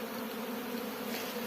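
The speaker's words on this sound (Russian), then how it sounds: "Здесь у нас вовсю полным ходом пчелки летают." Honey bees buzzing at an apiary in the sun, a dense continuous drone from many bees that stays steady and close throughout.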